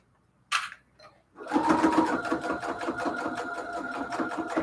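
Sewing machine stitching quilted cathedral window pillow cases, running steadily and fairly loud after a brief starting burst, with a fast, even mechanical rhythm that continues to the end.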